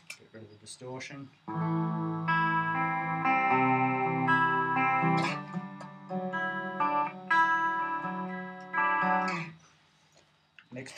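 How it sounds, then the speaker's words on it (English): Electric guitar through a chorus pedal, shimmering sustained chords and arpeggiated notes, clean and moderately loud, with a brief pause midway. "Next to that, just a basic chorus pedal."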